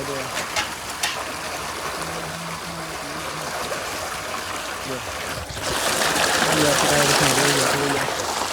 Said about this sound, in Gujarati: મસ્ત પાણી ચાલુ છે ગેસમાં.